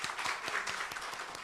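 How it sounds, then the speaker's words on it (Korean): Church congregation clapping together in a blessing round of applause during a Sunday service, a dense steady wash of many hands across the whole moment, no voices. "우리 축복의 박수 합시다."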